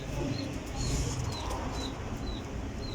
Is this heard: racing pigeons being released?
yes